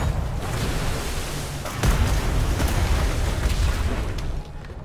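Ship cannons fire in the game Atlas as a dense, continuous roar of booming blasts, with one sharper heavy report standing out near the middle of the barrage, all loud and close.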